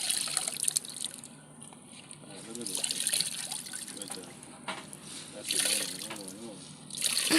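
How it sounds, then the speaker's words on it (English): Water sloshing and trickling as a child washes a dress by hand, soft splashes and drips coming and going while adults talk over it nearby. "You washing Mommy's dress, Jordan?"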